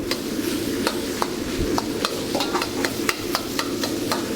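A spoon breaks up cooked rice in a wok during a stir-fry with kimchi, making repeated sharp scraping clicks at an uneven rhythm over a soft steady sizzle, close and moderately loud.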